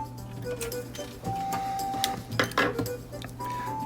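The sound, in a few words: sewing machine stitching a thin button loop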